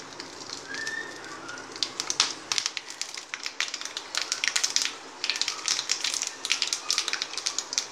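Mustard seeds and urad dal splutter in hot oil, a dense run of sharp crackles and pops that comes in bursts over a low background, busier in the second half.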